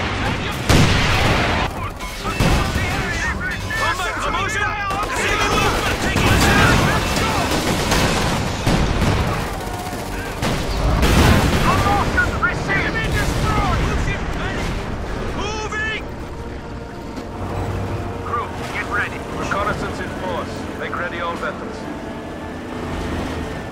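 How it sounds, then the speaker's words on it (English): Mortar blasts and gunfire from Company of Heroes 2 thud and crackle through a busy battle, with repeated booms and scattered shots over a continuous din while a voice talks over it. "Dude, the mortars are insane in this game."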